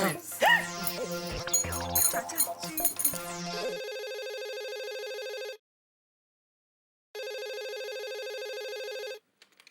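A telephone rings in a home, with a busy musical sting first, then a steady repeating electronic ringtone in two long bursts separated by silence.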